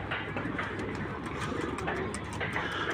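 Pigeons coo softly and repeatedly at a loft, the low murmuring calls continuing throughout at a moderate distance, with faint voices in the background.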